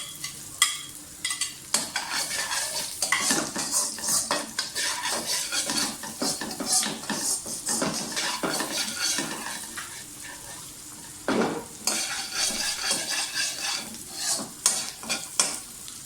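Chopped garlic and green chili fry in hot cooking oil in a pan, a loud continuous sizzle broken by busy scraping and clinking of a spatula stirring close by, with no voices.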